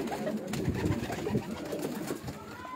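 Teddy pigeons coo softly on a rooftop in Mirpur, low repeated murmuring calls over a constant noisy background.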